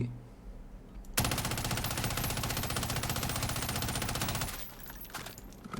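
FFAR assault rifle fires in a video game, a long rapid burst of sharp automatic shots lasting about three seconds, loud and close.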